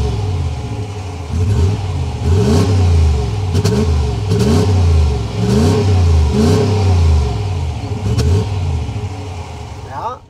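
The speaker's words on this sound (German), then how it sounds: "Ein richtig schönes V8-Brabbeln haben wir hier vorhanden" A RAM 1500 Laramie Night Edition pickup's 5.7-liter HEMI V8 with an 8-speed automatic burbles and revs as it accelerates, a deep rhythmic rumble rising through repeated surges, loud and near, with talking underneath.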